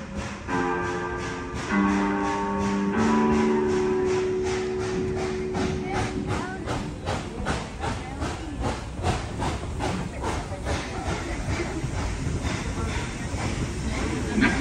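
A heritage steam train on the Tweetsie Railroad eases to a stop at a remote frontier outpost station with rhythmic hissing chuffs that slow and thin out. A sustained whistle-like tone sounds early on, and a voice talks over it.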